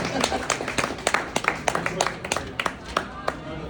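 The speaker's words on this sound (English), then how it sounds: "So clap for Orland," Scattered applause from a small audience at a monthly chamber membership meeting, a dozen or so separate claps ringing out over a murmur of background voices, fairly close and moderate in level.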